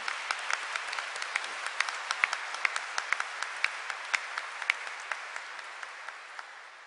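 A congregation at a youth Mass in Seoul gives a steady round of applause, many hands clapping in a dense, even patter at moderate distance that slowly tapers off.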